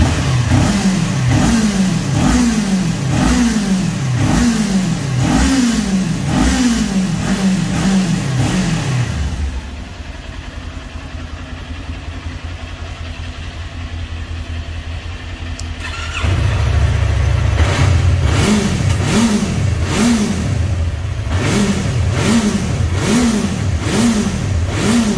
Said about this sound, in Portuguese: Vamos lá dar uma aceleradinha agora.